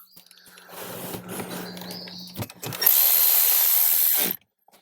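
A power drill drives screws into the dash panel of a 2018-up Jeep Wrangler JL, a shorter whirring burst followed by a louder, sustained high-pitched run that stops abruptly, heard close up with no talk.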